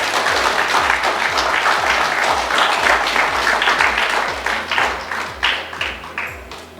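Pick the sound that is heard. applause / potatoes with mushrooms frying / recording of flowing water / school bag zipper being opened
applause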